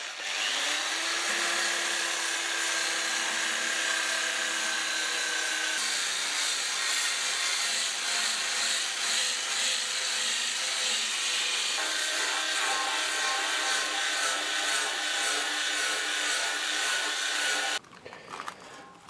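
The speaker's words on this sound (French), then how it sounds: "maintenant je vais faire un petit coup de brosse en nylon" A nylon brush scrubbing rusty steel after electrolysis makes a long, continuous, close abrasive rasp with a faint higher tone early on, running steadily for about eighteen seconds before cutting off abruptly.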